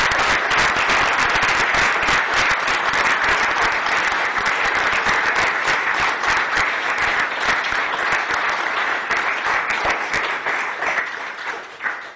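Sustained applause from a lecture hall audience after an inaugural university lecture, loud and thick with many hands clapping at once, continuing for over ten seconds before starting to fade.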